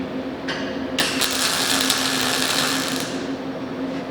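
A CO2 welding wire feeder runs 0.9mm wire with a steady mechanical whir and hum, a brief rise near the start, then a stronger continuous motor drone that fades slightly near the end, close and alone.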